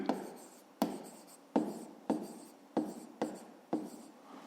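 A pen scratches out an equation on paper in close, quiet strokes, about seven short scribbles falling at an even rhythm, each a sharp start that fades.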